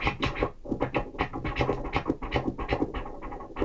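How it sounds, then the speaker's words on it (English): A vinyl record is baby-scratched back and forth in uneven, rapid strokes, each stroke a short swooshing burst over faint music. "you can learn a baby scratch just by taking any song on that record"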